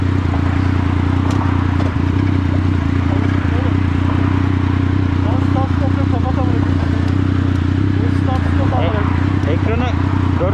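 A motorcycle engine, a Yamaha MT-09 or Honda PCX, idles with a loud, steady low rumble close by, running continuously under ongoing conversation.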